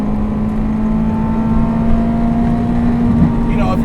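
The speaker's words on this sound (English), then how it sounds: "I really just want to hear that V8 wail in the back." Steady droning V8 engine of a Ferrari F355 GTS with manual gearbox, heard from the cabin while driving, a constant low-pitched hum under road noise with a person talking.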